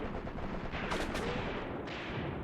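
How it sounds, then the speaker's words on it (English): Gunfire crackles in from the flank during a Graviteam Tactics: Mius Front battle, a dense, continuous rattle of distant small-arms shots with a couple of sharper bursts, heard alone without talk. "But there's also fire coming in from the flank."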